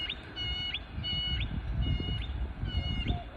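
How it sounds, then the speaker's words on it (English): Birds chirping: a short, high call repeats four times at a steady pace, fairly faint against a constant low rumble, with no one talking. "I hear you, birds."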